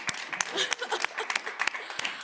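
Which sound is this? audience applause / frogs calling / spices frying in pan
audience applause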